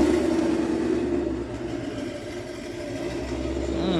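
Naturally aspirated Ford Mustang S197 V8 idling at a dyno shop, a low, lumpy rumble held steady and close, with a faint rising whine toward the end.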